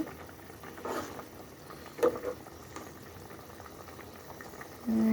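Potatoes simmering in a curry pot, a soft continuous bubbling with a few louder pops and a brief clink near the end.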